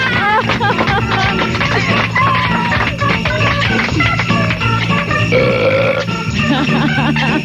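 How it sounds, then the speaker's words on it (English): Loud, drawn-out belching on a late-1980s comedy radio show, with repeated guttural burps and grunts running almost continuously and voices mixed in. "guys do belch better than women, don't they?"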